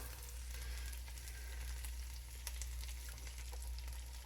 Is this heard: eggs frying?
yes